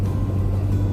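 A car pushes through ten-to-twelve-inch snow drifts during a Valentine's Day blizzard, giving a steady, loud low engine rumble and road roar with wind noise and no pauses.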